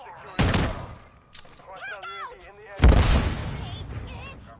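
Video game shootout gunfire, two loud close bursts of rapid shots with booming impacts, separated by a quieter stretch holding brief voices and electronic tones, the second burst trailing off into a rumbling tail.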